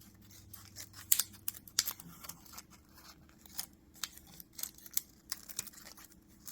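Scissors cutting a plastic flower petal for 3D plastic art, a series of sharp, close snips and crisp plastic crackles spaced irregularly over several seconds, with no talking.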